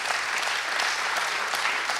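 Audience applause for volunteers called onto the stage at a French conference's closing plenary, a dense, even roar of many hands clapping at steady volume, with no voices over it.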